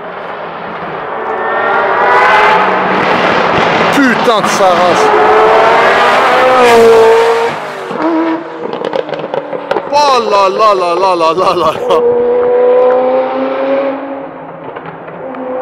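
A Ferrari F40 engine screams past at high revs without traction control, pitch sweeping up and down through gear changes, while excited voices shout over the roar.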